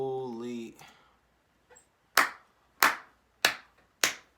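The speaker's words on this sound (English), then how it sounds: "IMR Scary Tales, you get an applause too, bro" Four sharp, isolated hand claps ring out close and loud at an even pace, following a short stretch of speech and a brief quiet pause.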